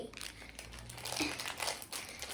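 A plastic mystery toy bag crinkles and crumples faintly and close-up as it is handled and opened, with no one talking.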